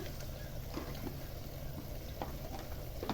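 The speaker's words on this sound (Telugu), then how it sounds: "పచ్చిమిర్చి ఫ్రై అయినాక ఆనియన్ ఆయిల్లో ఫ్రై అవ్వాలి" Chopped onions fry in oil with green chillies for a kunda chicken dish, making a faint, steady sizzle with a few soft stirring scrapes.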